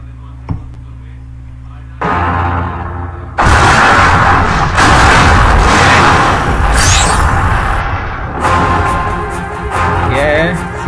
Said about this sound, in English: Random firing.